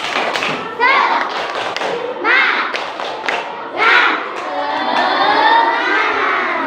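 Classroom group clapping routine led by a teacher, with children chanting along in bursts of rhythmic claps and thumps, loud and close, voices mixed throughout.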